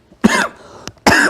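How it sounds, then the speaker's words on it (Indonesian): Two loud, harsh coughs from a man, close to the mic and separated by a short pause, with a faint click between them. "Nah, itu batuk tuh, bahaya tuh."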